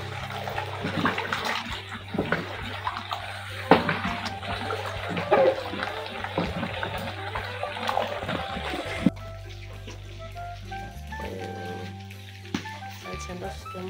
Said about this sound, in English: Then you add it in the boiling water.